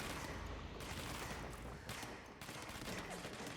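Gunfire in the video game Control, continuous rapid fusillade with a few gaps, fairly faint and uniform through the short stretch, no talk heard.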